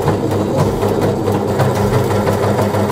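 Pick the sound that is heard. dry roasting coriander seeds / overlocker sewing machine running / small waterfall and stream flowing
overlocker sewing machine running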